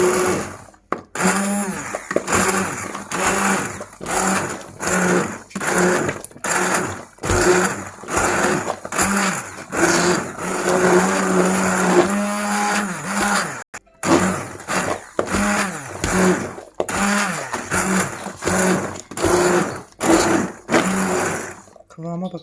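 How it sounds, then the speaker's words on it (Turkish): A blender purees cooked tomatoes for homemade ketchup, running loud and close in repeated pulsing bursts with short pauses between them. "Blenderımızdan geçiriyoruz arkadaşlar"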